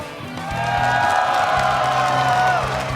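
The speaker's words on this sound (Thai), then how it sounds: "ขอเสียงปรบมือดังๆด้วยครับ" A Muay Thai fight crowd claps, whoops and cheers loudly after a bout, a dense continuous roar of voices and applause, with an amplified announcer-style voice booming underneath.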